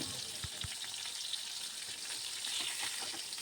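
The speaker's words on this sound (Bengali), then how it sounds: "নুন হলুদ দিয়ে মেখে রাখা দুটো বোয়াল মাছের পিস ভেজে নিচ্ছি।" Two pieces of boal fish rubbed with salt and turmeric fry in hot oil over low to medium flame, a steady soft sizzle with a couple of brief low thumps near the start.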